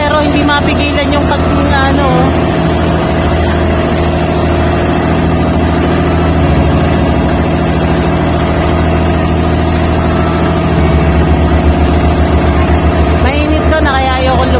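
An outboard-style boat motor runs steadily and loudly on a trip to Cagbalete Island, a constant droning hum throughout with people talking underneath.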